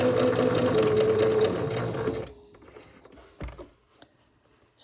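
A sewing machine stitches an elastic casing along the second fold of a fabric hem, a close, busy whirring run that stops abruptly partway through, leaving near-silence with a few faint handling taps.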